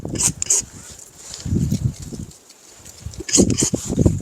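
Several sharp dog barks in quick bursts, a couple early and a pair near the end, with some low-level activity in between.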